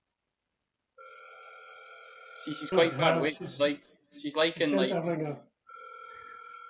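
An outgoing phone call sounds its repeated electronic ringback tone, heard in short spells before and after someone talks over the line.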